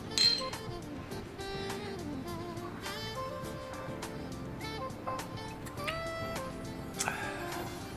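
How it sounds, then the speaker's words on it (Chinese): Glasses clink together in a toast during a drama scene, a bright ringing chink right at the start followed by lighter clinks and tableware sounds over soft background music. "干杯！"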